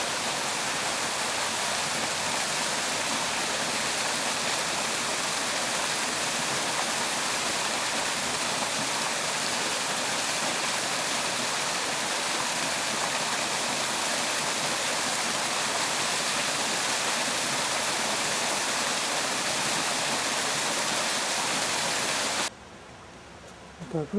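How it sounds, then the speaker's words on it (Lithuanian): A rushing stream in an autumn landscape gives a steady, loud broadband roar that holds almost unchanged for the length, cutting out abruptly near the end. "Ir šniokščiančiai upelis"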